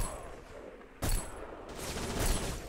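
Gunfire in the PS2/Xbox shooter Black: two sharp, loud shots about a second apart, each a broadband burst with a short ringing tail, over a steady background of game ambience.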